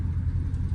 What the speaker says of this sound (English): revving up, just straight off the gas